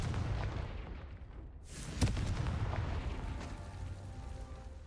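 A Confringo spell explosion in Hogwarts Legacy goes off as a single sharp blast with a rushing whoosh just before it, followed by a rumbling tail over steady game ambience.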